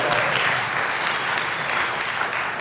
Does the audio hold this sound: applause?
yes